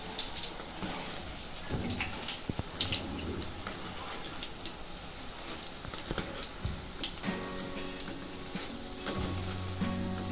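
Boondi, small round drops of gram flour batter, bubbling and frying in hot oil, a steady close crackling fizz with scattered pops and clinks of a utensil throughout.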